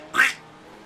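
A person imitates a duck with a single short, nasal quack, loud and close, over a quiet background during live commentary of a GT3 sim-racing event.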